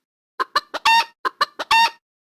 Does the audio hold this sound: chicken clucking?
yes